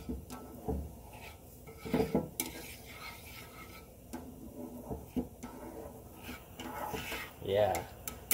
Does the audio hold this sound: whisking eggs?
yes